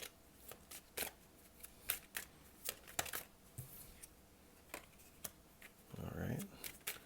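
Tarot cards are shuffled and drawn in quick, crisp riffles and snaps, with soft voices talking quietly in between.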